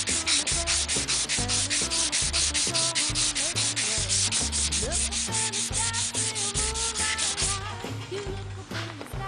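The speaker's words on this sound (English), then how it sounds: "Crosshatch sand, go both ways. I work a small area at a time." Steady, rapid back-and-forth crosshatch hand sanding on the body of a 1940 Chevrolet truck, worked in a small area at a time; loud and close, with continuous rhythmic rubbing strokes and no talk.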